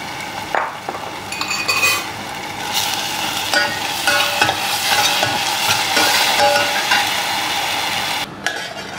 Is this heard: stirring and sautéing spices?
yes